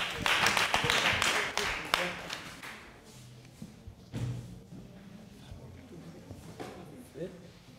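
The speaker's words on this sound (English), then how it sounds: "Let's have a big clap for them." A class of students claps for a group that has just finished presenting, a dense burst of hand claps for about two seconds that thins into scattered taps and thuds as voices and room noise take over.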